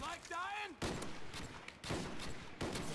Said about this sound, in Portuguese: Esse barulho de headshot é muito bom.